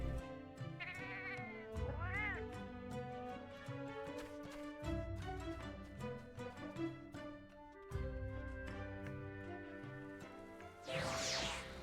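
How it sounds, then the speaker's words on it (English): A palico, the small cat companion from the Monster Hunter games, meows in a rising, whiny call over busy game music with tonal sound effects, the cry close and clear, followed by a brief bright burst near the end. "That adorable little kitty is known as a palico."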